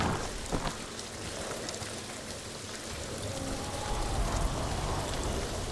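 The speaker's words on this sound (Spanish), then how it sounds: "se pone a llover ahora" Rain in the samurai video game Ghost of Tsushima falls as a steady, dense hiss with pattering drops, gradually swelling slightly louder, with no talk over it.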